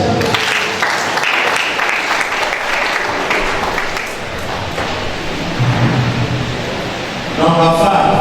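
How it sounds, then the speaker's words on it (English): Congregation at a church service clapping loudly and continuously, a dense sustained roar of hands that runs through the whole stretch, with a brief ringing tone near the end. "Clap for yourself."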